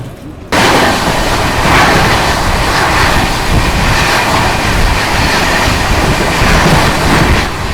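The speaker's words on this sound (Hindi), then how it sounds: "अपनी प्रयागराज हमसफर एक्सप्रेस निकल चुकी है संगम नगरी प्रयागराज के प्रयागराज जंक्शन रेलवे स्टेशन से" Prayagraj Humsafar Express pulling out of Prayagraj Junction, a loud continuous roar of moving coaches and rushing air that starts abruptly after a brief quiet moment and holds steady, heard close with no talking.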